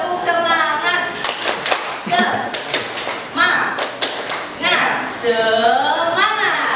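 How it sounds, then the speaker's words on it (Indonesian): An audience at a school teacher-training session does the 'tepuk semangat' rhythmic clapping chant, with short bursts of hand claps between loud spoken and chanted voices. "saya butuh tepuk semangat dari Bapak Ibu ya"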